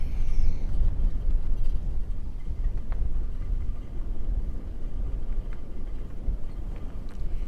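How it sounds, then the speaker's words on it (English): Wind gusts buffet the microphone at a boat's anchorage in a Mexican cove, a loud, continuous low rumble with no voices. "Pretty windy up here."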